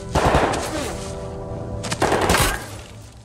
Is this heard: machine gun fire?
yes